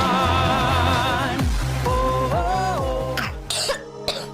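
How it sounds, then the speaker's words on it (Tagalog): A child coughs several times in a row, loud and close, with a throat-clearing sound between the coughs and no speech alongside. "Ubo ng anak?"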